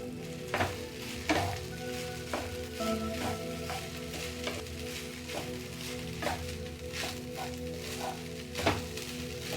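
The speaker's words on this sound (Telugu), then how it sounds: "హై ఫ్లేమ్లో ఈ వెజ్జీస్ అన్ని ఈ రైస్కి కలిసేదాకా ఒకసారి కలుపుకుందాం" White rice and vegetables stir-fried on high flame for veg fried rice, with a steady sizzling crackle and repeated sharp scrapes and taps of a spoon in the pan, close and alone without talk.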